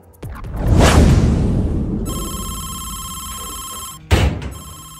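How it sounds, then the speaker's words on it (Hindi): A telephone bell rings loudly and alone in a domestic comedy scene, a sharp electronic trill that starts at about two seconds, cuts off briefly near four seconds and then resumes. "देव दा फोन"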